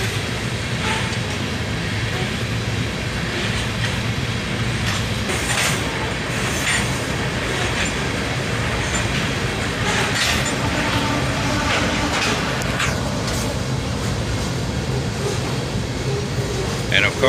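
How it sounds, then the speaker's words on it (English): A loaded iron ore freight train rolls steadily past, led by a CSX ET44AH locomotive, with continuous heavy rumble of wagons and wheel clatter, occasional squeals, close and loud throughout. "This was a loaded iron ore train."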